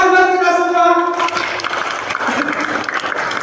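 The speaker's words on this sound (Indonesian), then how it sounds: "Oke, tepuk tangan buat kita semua." A group claps together after a children's storytelling and magic-trick session, the applause breaking out after a held tone and continuing as an irregular spatter of hands.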